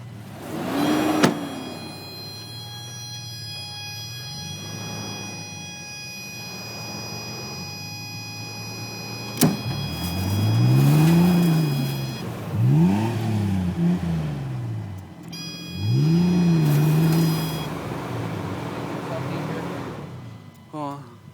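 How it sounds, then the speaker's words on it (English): A pickup truck is driven out with its engine revving in repeated rising and falling surges, loud and close. A steady electrical whine runs underneath, and short bursts of voices come between the revs. "I'm pulling the man truck out."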